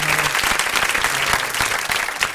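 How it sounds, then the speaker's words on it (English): Dense applause from a studio audience at a live radio stream, loud and close, with a continuous patter of clapping and a few sharper individual claps standing out. "We want to give her a glowing round of applause and congratulate her."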